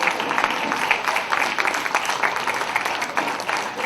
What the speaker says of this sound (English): Please stand up and give a big round of applause to the people who have done all this difficult work